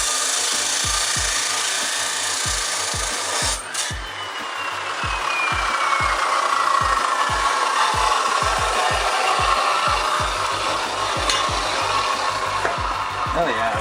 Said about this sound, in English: let's go grab a big saw and a cutoff wheel and roll that out here